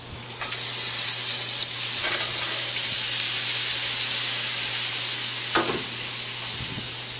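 Peppers frying in a hot pan give a loud, continuous bright sizzle that holds steady throughout, with a few soft clinks and stirring scrapes on top.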